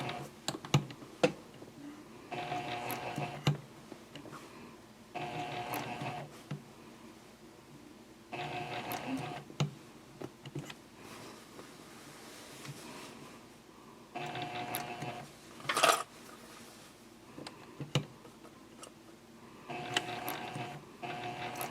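A sewing machine stitches slowly around a curve on a Christmas stocking, running in short mechanical bursts of rapid clatter separated by pauses, with a few clicks, close and fairly quiet.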